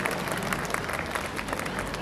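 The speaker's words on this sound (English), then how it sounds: "Can we have a round of applause for all of you parents who make all of this possible?" A large audience at an annual school concert applauds parents, producing loud, dense, continuous clapping with crowd noise throughout.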